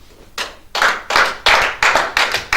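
A church congregation claps in acclaim of Jesus with six loud, rhythmic bursts of massed applause that come in a steady beat, close and strong.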